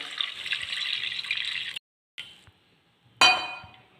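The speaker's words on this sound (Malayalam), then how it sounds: "ഇനി അതിലേക്ക് നമുക്ക് കുറച്ച് വെള്ളം ഒഴിക്കാം" A steady hiss of about a cup of water pouring into a pan of wilted ingredients for a tender jackfruit and dried prawn curry, a brief pause, then a sharp metallic clink and a short splash.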